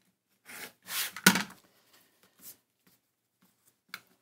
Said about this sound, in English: Trim that little extra bit off.